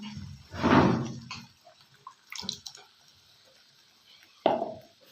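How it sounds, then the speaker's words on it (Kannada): Water is poured into a mixer jar and swirled around in a kitchen while a green peas curry is being made, giving two short watery splashes and a sharp slosh near the end. "ಇವಾಗ ಮಿಕ್ಸಿ ಜಾರ್ಗೆ ನೀರು ಹಾಕ್ಕೊಂಡು ಹಾಕ್ಕೊಳ್ಳೋಣ."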